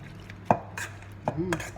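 Avocado being roughly mashed with a masher in a bowl for guacamole, a few soft dull thumps and squelches in short irregular presses, close and fairly quiet, with no talking.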